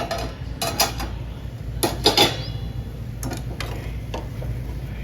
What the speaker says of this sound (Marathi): पाच मिनिटं झालेले आहेत मी आता झाकण काढत आहे